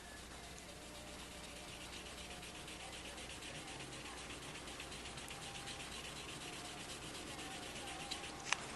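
Steady, continuous rubbing hiss of sanding dried paint down to a matte, dull finish, close and even throughout with one small knock near the end.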